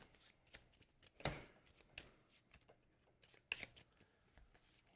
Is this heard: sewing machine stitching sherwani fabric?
no